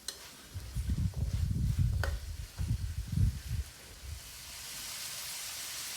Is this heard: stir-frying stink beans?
yes